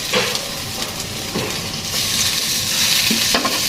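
Onion frying with chicken in a pot for bhindi gosht, a loud continuous sizzle and hiss with spoon-stirring scrapes and a few clanks against the pot, close up.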